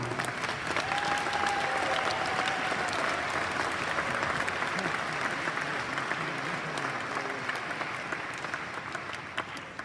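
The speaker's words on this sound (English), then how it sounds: "One big applause for them all" A large audience at a corporate product launch event in Amsterdam applauds loudly and steadily for the full stretch, a dense unbroken wash of clapping that eases off slightly near the end.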